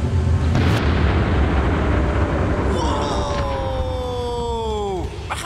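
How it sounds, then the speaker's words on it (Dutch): A loud explosion from an orange-dropping stunt with a crane, heard as a heavy sustained rumbling boom with falling whistling tones over a steady roar, low-frequency energy throughout. "Het was een dikke ontploffing."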